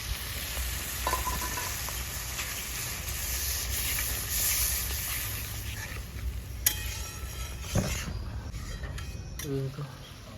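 Water from a tomato bowl tipped into a hot pan of tomato paste for a village-style prawn and poppy-seed curry, giving a steady frying hiss with a few spoon and pan clinks, while a voice talks over it.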